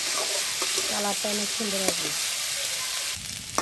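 Potato pieces frying in oil with salt and turmeric, being stirred in a pan while someone talks over the steady sizzle, with a clatter of the spoon near the end.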